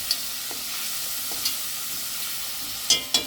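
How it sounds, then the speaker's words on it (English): Garlic browns over low heat in a cast iron Dutch oven, a soft continuous sizzle broken by a few sharp metallic clinks and scrapes of the stirring utensil, close and quiet. "think the garlic is about ready to be stirred up."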